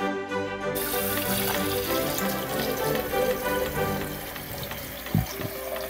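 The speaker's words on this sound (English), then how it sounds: "So let me fill these up with water and I'll be right back." Filtered tap water runs into mason jars in a steady gushing stream that changes pitch as the jars fill, heard up close and alone.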